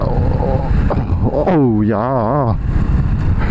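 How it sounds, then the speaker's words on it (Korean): A Honda Super Cub low-displacement motorcycle engine brakes as it is ridden, its pitch wavering and falling over about a second, with loud wind rushing past the microphone throughout. "이렇게 엔진 브레이크를 걸게 되면은 굉장히 강하게 브레이크가 잡히는 느낌이 들어요"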